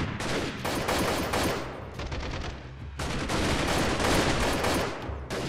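A weapon in the Freeman: Guerrilla Warfare shooter fires dense, rapid bursts, loud and continuous, with only brief gaps between volleys.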